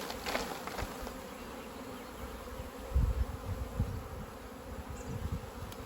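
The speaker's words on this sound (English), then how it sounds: "Okay, I got a good mix of bees there." Dense, steady buzzing of many honey bees at an open hive during an inspection, a close, continuous drone with brief louder swells and passing individual bees.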